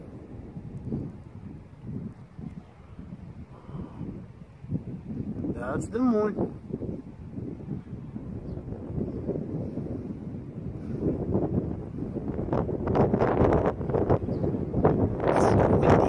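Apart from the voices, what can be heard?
wind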